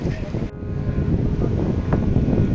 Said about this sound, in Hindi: ऊंचाई देखो भाइयों, हवा चल रही है तेज।